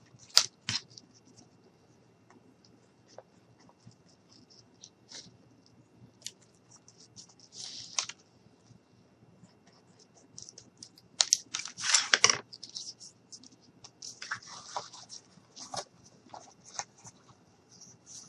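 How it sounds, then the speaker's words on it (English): Clear plastic sheet for a small model truck's windows is cut with snips in sparse, crisp clicks and crunches. The cuts are close and quiet with gaps between them, and a denser burst of cutting comes near the middle. No one talks. "So what I'm going to do is take this clear plastic, and I am just going to cut."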